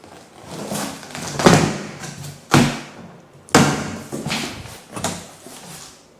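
A cardboard shipping box holding a replacement toilet bowl and tank is opened up close by, giving several hollow thumps and rough scraping handling noises in an irregular rhythm.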